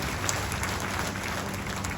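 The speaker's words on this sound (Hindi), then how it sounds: "जोरदार तालियां तो उनके लिए बनती है।" Audience applause at a BJP state workshop at the party's Bhopal office, greeting state president Vishnudatt Sharma; dense, steady clapping fills the full two seconds at even loudness with no pauses.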